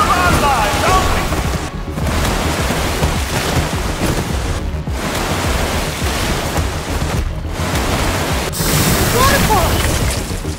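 A roaring waterfall in the Minecraft: Story Mode video game, a dense continuous rush of falling water with a few brief dips, loud and close throughout.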